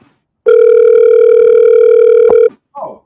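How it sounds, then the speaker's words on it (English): A telephone ringback tone sounds while calling someone, a loud, steady electronic tone lasting about two seconds, then cutting off, followed by a brief murmur of voice. "Pick up, Jabari. Pick up, Jabari"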